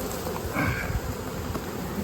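Honeybees swarm around a hive, giving off a faint, continuous buzzing hum that stays even throughout.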